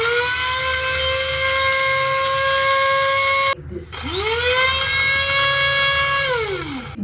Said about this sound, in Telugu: చూడండి, ఆ చోటా మిక్సర్ బడా ధమాకా.